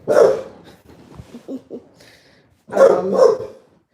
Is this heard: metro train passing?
no